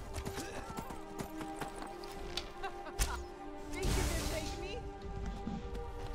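Horse hooves clopping in the game Skyrim, a run of quick hoofbeats followed by a louder rushing burst, with a horse whinny and voices mixed in.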